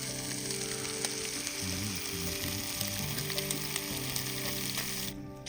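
Pan bread fries in a pan over a campfire in the Lapland wilderness, a steady close sizzle with faint stirring scrapes, no voices.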